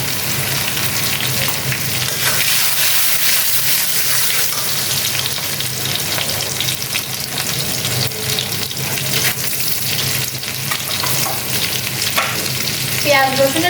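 Chopped onion sizzles steadily in a hot pan with oil and a little salt while a chicken curry is being cooked, a constant close frying hiss with occasional stirring scrapes.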